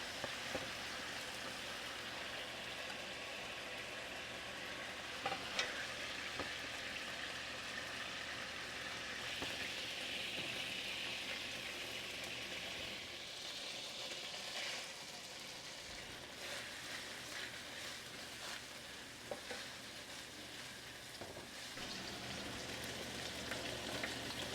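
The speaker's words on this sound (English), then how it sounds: "then we'll start sauteing our onions and garlic" Onions and garlic sizzle and sauté in a pan while paella is being made, a soft continuous frying hiss with occasional stirring clinks and scrapes, fairly quiet, with no talking.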